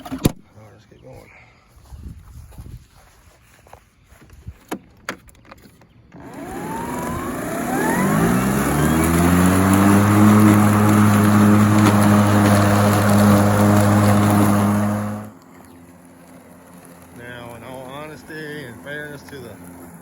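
A Ryobi 40v battery push mower cutting grass: after some scattered clatter, the electric motor whirs up in rising pitch into a loud steady drone for about nine seconds, then cuts off, leaving light rattling.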